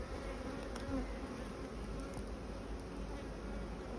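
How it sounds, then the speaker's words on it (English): Dense, steady buzzing of a great many honeybees around hive colonies, close and continuous with no talk over it. "because of the sheer quantity of bees"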